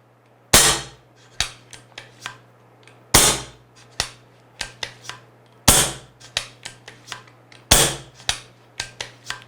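Sharp pneumatic cracks from a regulated PCP air rifle being emptied of air, four main shots spaced about two and a half seconds apart, each followed by quieter clicks of the mechanism.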